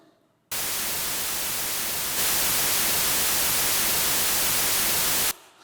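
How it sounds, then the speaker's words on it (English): Computer-generated white noise produced with Ruby code: a steady, even hiss that starts abruptly, steps slightly louder partway through, then cuts off cleanly after about five seconds, with no voices. "So this is some real Ruby-generated noise."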